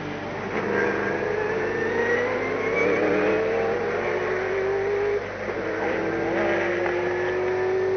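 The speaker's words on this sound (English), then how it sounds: "Second car on the track is this man in the Sauber Mercedes," Sauber Mercedes C11 race car circulating at Le Mans in 1991, its engine note climbing steadily through the gears as it passes, loud and sustained with a brief dip midway, no voices.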